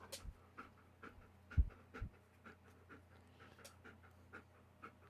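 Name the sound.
dog panting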